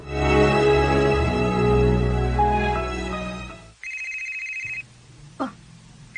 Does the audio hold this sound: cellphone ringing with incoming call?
yes